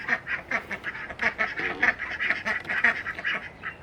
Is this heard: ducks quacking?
yes